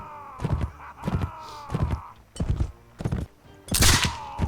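Gunshots ring out in the Mount & Blade: Fire and Sword video game, a series of about six sharp, loud cracks spaced roughly every half second to second, the last one brightest and heaviest.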